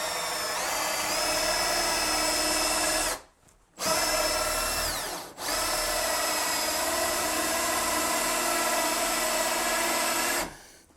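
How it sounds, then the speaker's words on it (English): Power drill boring a lock hole through a door with a hole-saw kit, a loud sustained whine in three long runs separated by two short stops, close and alone with no talking. "now we're going to go from this side, drill the other half"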